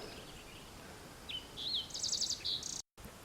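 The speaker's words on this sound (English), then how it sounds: "Just listening to the birds and the bees." Small birds chirp and trill in short repeated phrases along a hiking trail in the Ashland Peaks area, clear but modest against a steady outdoor hiss, with no talking.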